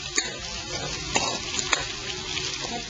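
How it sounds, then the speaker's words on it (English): Beef and vegetables stir-frying in a wok, a steady sizzle broken by a few sharp clicks of a utensil against the metal. "let's now put the beef back into the wok"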